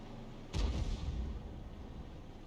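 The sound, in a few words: G.W. E100 artillery firing, from video game World of Tanks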